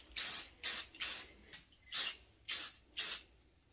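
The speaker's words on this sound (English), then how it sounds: "So I've got my gold spray paint" An aerosol can of Rust-Oleum Bright Coat metallic gold spray paint hisses in seven short, even bursts with brief pauses between them, close by and fairly quiet.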